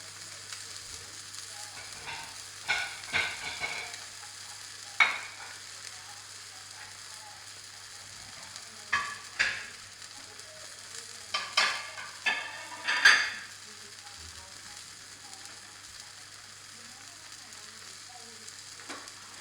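Lemon sole frying in lemon butter in a pan sizzles quietly and steadily, broken by several short scrapes and clatters as the fillet is turned over.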